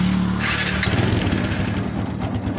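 A Kawasaki Barako 175 motorcycle with a power pipe exhaust idles and revs steadily up close, a throaty mid-pitched engine note running alone throughout.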